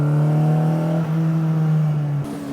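A little Mini with a VTEC engine swap accelerating hard on a race track, its loud, steady engine note holding then shifting pitch briefly, close and alone.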